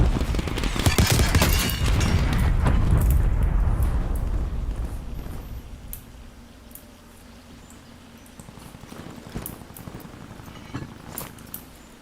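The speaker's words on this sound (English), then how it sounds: "Incoming artillery." Artillery explosions in a video game thunder heavily at first, a dense rumbling barrage that fades into scattered distant blasts and crackles.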